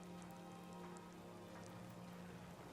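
Steady rain falls in a video game, a dense even hiss of drops with a low hum underneath, continuous and moderately loud throughout.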